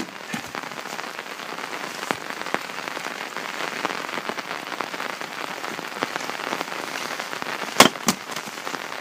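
Rain falls steadily outdoors, a dense even patter of drops on surfaces, with a few sharper close taps and a brief louder knock near the end.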